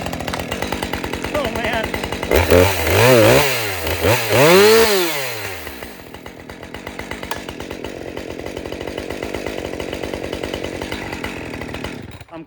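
Modern 545 chainsaw revved in two quick surging bursts, then dropping to a steady, buzzing idle that runs on until it cuts off, loud and close, with a brief spoken exclamation.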